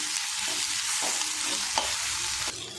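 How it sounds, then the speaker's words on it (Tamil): Onions and tomatoes frying in a pan while being stirred, giving a steady close sizzle with a few soft scraping strokes of the spoon, ending with a slight drop in level. "தக்காளி சேர்த்து நல்லா மிக்ஸ் பண்ணிட்டேன்"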